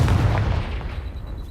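A Confringo fire spell bursting in Hogwarts Legacy, a loud low booming blast at the start that rumbles and fades over about a second, with no talk.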